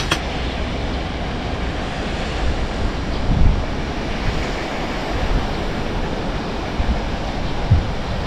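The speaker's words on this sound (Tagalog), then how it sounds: "medyo mahangin dito" Steady, loud wind roars across the microphone with continuous broadband rumble and gusty buffeting, no voices, sustained throughout.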